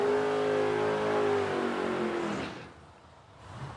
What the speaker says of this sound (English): 2022 Chevrolet Corvette.